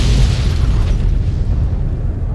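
A loud, sustained explosion in Fallout: New Vegas, with a deep booming rumble that fills the whole clip and slowly fades without any break.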